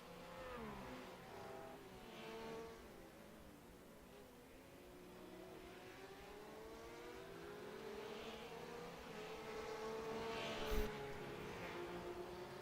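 GT3 race cars at Suzuka circuit accelerate in third gear out of a hairpin, their engines a steady distant rising drone with shifting pitch, one brief sharp click near the end.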